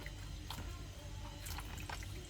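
Stockfish for oha soup being washed by hand in salted hot water diluted with cold, with faint splashing and dripping water throughout, quiet and close.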